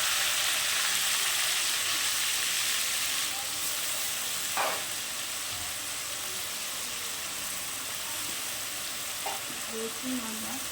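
Garlic, ginger and chili sizzle steadily in hot oil for a chicken bhuna, a continuous close frying hiss with a few brief stirring clinks, no one talking.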